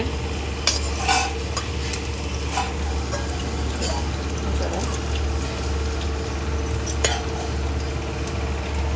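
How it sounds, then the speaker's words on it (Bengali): A mother cooks fish curry in a home kitchen with steady sizzling and frying, broken by occasional clinks and scrapes of a spoon stirring the pot, under a constant low hum. "এই যে মা রান্না করছে, মা মাছের ঝোল রান্না করছে।"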